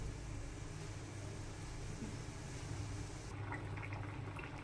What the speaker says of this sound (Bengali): এবার আমি ঢাকা দিয়ে সিদ্ধ করে নেবো অল্প করে